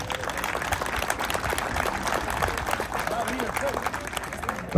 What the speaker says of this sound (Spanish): También el aplauso al presidente municipal de San Felipe